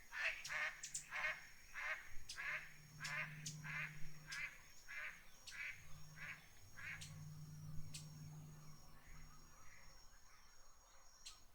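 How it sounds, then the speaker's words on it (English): Waterfowl calling, ducks with loons and geese, a quiet series of rapid quacking bursts in uneven clusters over a low hum, fading toward the end. "Ducks, loon, and geese."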